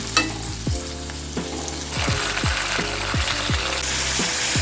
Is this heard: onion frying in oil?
yes